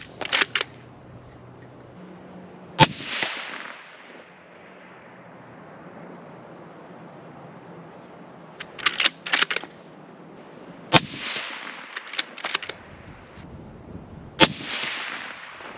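A Ruger Precision Rifle fires Hornady Superformance 168 grain ELD rounds at a range: three sharp, loud shots spread apart, with a few smaller clicks and handling noises between them.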